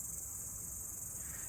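A cricket chirps steadily outdoors, a continuous high shrill trill that holds at an even level through the whole moment, with no talk over it.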